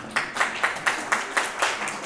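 Lecture hall audience gives a brief round of applause as a steady, rhythmic run of claps at moderate volume, close and alone.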